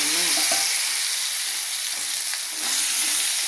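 Vegetables sautéing in a pan for Pudukkottai tamarind curry, producing a loud, even, close-up frying hiss that runs steadily from start to finish with a few soft stirring touches.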